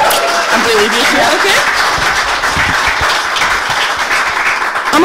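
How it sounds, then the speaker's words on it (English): A live cabaret audience in Glasgow gives a sustained, loud round of applause from a packed room, with a voice briefly rising over it near the start. "can we just give another massive round of applause for accommodating us?"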